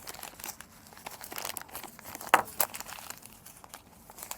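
Oil paper packaging is unwrapped from an injector valve assembly, giving close, continuous crinkling and rustling with a few sharper crackles partway through.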